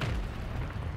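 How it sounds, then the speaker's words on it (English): A mortar shell explodes close by in a battle royale game, heard as a heavy, rumbling low boom that fills the whole moment. "That mortar just landed in front of my face and I lived that"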